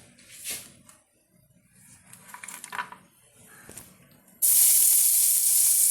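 Chopped onions drop into hot oil in a pan after a few scattered clatters, and a loud, sustained sizzle suddenly takes over and continues to the end.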